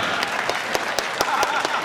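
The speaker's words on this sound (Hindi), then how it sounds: "समझ में आई है तो बजाइए ताली।" An audience at a Hindi comedy poetry show claps in a quick, fairly even rhythm, a dense burst of applause lasting under two seconds.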